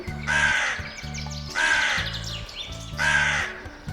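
A crow caws three times in a steady rhythm, each call harsh and fairly close, with a low hum underneath.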